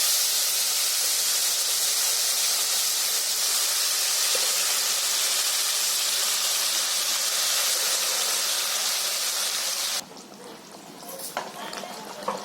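Loud, steady sizzling hiss as mutton hits hot oil and fried masala in a Konkani-style home curry, continuous for about ten seconds before suddenly dropping to a softer crackle with light clinks.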